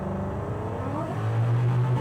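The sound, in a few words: supercharged 1968 Ford Mustang Fastback accelerating on road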